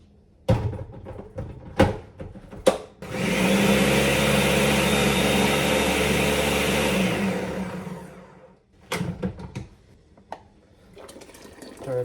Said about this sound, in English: All right, and then let's blend it.